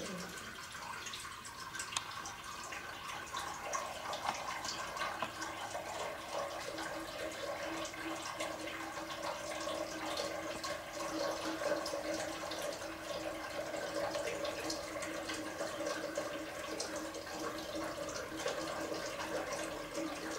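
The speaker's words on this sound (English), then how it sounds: "How the water is rushing out of the bottle in my hand and it's empty now." Water glugs and rushes out of two inverted bottles tipped from the same height, a steady continuous splashing pour lasting throughout at moderate level, with no talk over it.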